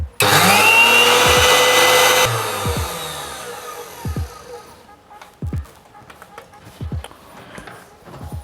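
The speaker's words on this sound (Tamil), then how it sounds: "மிக்ஸியை போட போகிறேன்." An electric mixer grinder (mixie) under repair for a wiring fault whirs loudly for about two seconds, then winds down over several seconds, with scattered thumps and knocks as it coasts to a stop.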